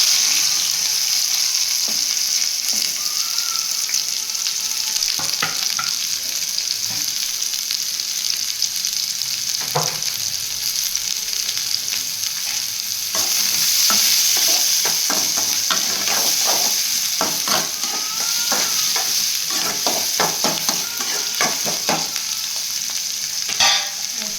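Onions frying in a pan with cinnamon sticks and cloves for a mushroom fry, a steady loud sizzle with intermittent stirring scrapes and clicks throughout, no voices.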